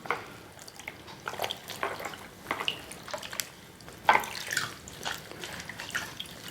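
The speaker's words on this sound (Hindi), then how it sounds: "टॉवल को पानी में डिप करेंगे" A towel dipped into a bowl of cold water, giving soft irregular splashes and drips close by, fairly quiet, with several sharper sloshes as the cloth moves.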